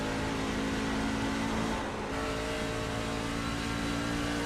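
NASCAR Truck Series trucks race at Rockingham, their engines making a continuous loud, steady roar with a sustained mid-pitched whine that dips only briefly, heard with no talking.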